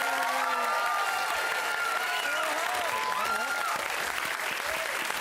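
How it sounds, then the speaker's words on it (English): A studio audience at a Christmas music quiz show applauds steadily while voices talk and call out over the clapping, the dense applause continuing under the speech for about five seconds. "we also have a big round of applause to Santa, Cad, and our elves, Cal, Dave, and Brian."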